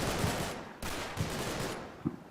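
Sniper rifle fire in the Combat Mission: Battle for Normandy war game, with sharp shots at uneven intervals over a steady rumble of battlefield noise, moderately loud and without speech.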